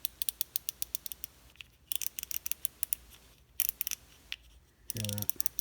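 An Abu Garcia MGXtreme 2 size 30 fishing reel clicks out several rapid bursts from its drag, close and bright, separated by brief gaps, ending in a short rougher burst with a voice.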